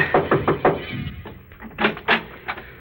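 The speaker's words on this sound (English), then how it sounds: "I knocked at the door." Knocks on a house door at night, a radio drama effect, heard alone as a few close, sharp raps in small groups.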